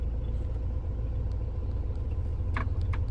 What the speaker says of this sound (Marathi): दिसली गाडी स्कॉर्पिओ